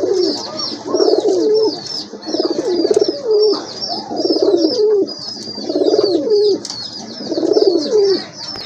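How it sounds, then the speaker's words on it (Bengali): German Shield pigeons coo close by in a steady, repeating rhythm of throaty phrases about every second, with lighter chirps mixed over the top and no talking. "এই পেয়ারটা মাশাআল্লাহ খুবই সুন্দর আছে, পায়ে কিন্তু ফেদার আছে আর একদম ফুল ফ্রেশ অ্যাক্টিভ কবুতর"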